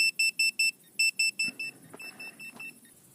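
A Hubsan H123D drone's low-battery alarm: a run of rapid high-pitched electronic beeps, loud at first in quick pairs, then fading into softer, repeated chirps with faint clicks beneath.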